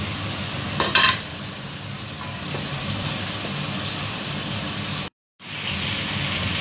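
A fish fillet fries in a hot pan with black beans, a steady close sizzle running throughout, with a few sharp clinks of a utensil near the start.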